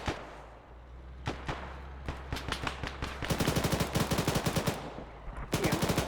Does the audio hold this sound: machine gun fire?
yes